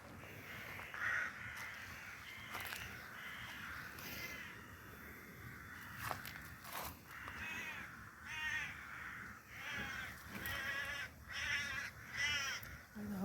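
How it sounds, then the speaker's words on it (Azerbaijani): Crows caw again and again in a garden, their harsh calls coming in bursts and overlapping through the whole stretch, fairly close and clear over faint background rustle. "Qarğalar niyə belə eləyir görəsən? Qarğaların səsinə bax."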